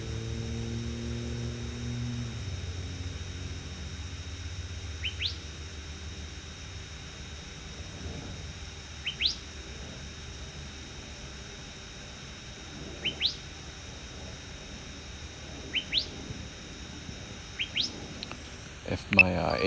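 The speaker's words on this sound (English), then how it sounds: "You hear that bird? It's whistling at me." Short rising whistled bird calls repeat every few seconds over a steady low hum, fairly distant and clear.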